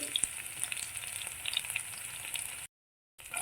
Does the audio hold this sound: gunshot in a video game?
no